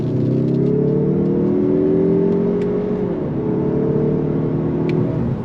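A 2025 Mazda 3 Turbo hatchback powers out of a turn with a steady, close engine drone whose pitch holds, dips briefly at a shift, then climbs again under load.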